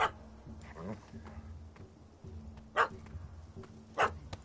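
A dog in The Witcher 3: Hearts of Stone barks a few times in sharp, separated bursts at moderate distance, heard over game ambience and under dialogue.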